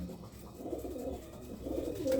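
Racing pigeons kept for village pigeon-flying contests coo in low, continuous rolling calls at close range, a little louder toward the end, with no speech.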